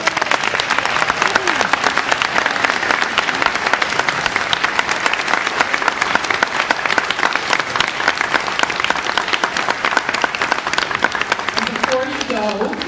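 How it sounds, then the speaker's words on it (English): Audience at a Democratic gubernatorial candidates forum applauding, sustained dense clapping from a crowd heard continuously throughout. "I think we should now finally give them all a big round of applause"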